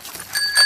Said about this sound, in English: these are the pedals, these are the brakes, and this is the bell